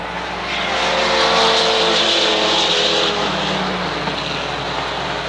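Mini stock race cars roar past at Waterford Speedbowl, a loud, sustained engine drone that swells in the first second and stays heavy and close, with several cars blending into one thick rumble.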